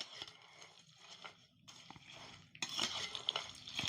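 A spoon scrapes and clinks against a pan while spices, salt and chilli are stirred into frying bhindi (okra), in short bursts of metallic scraping with a faint sizzle underneath and no talking.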